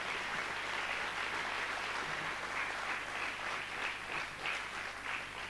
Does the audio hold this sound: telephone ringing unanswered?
no